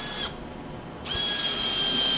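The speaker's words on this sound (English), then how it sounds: "I got my awesome Milwaukee drill, man" Milwaukee M12 12-volt cordless drill driving a screw into a wooden face frame: a short whirring motor burst, a brief pause, then a second steady run of the drill, close and loud.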